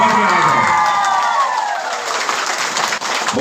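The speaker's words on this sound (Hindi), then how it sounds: "तो पुराना जो है उसको इतनी जोरदार ताली से स्वागत कर दीजिए कि उसकी समझ में आ जाए।" An audience at an Ayurveda training workshop welcomes members with loud, sustained clapping and cheering, with whoops and shouts riding over the dense applause.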